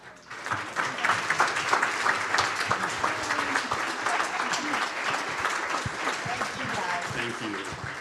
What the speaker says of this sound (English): Can we give all 5 of our speakers a round of applause?